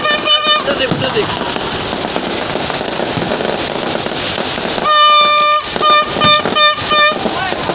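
New Year fireworks and firecrackers go off in Lahore as a loud, dense crackle of bangs, with car horns honking repeatedly in the later part and voices talking underneath.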